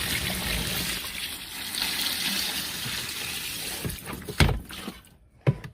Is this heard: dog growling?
no